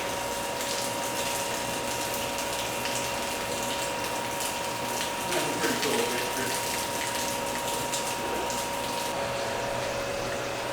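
Water rushing through pipes into a tank at a small craft brewery in Samara, Costa Rica, a steady continuous flow with a constant pump-like hum and faint tonal whine throughout.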